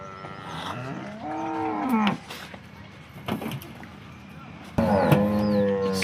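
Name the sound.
cows mooing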